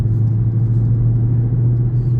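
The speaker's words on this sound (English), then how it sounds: "You got to hit the resume button for the car to take back off." A car moves off under adaptive cruise control with a steady, loud low engine and road rumble heard from inside the cabin, unbroken and with no talking.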